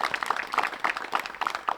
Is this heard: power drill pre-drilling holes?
no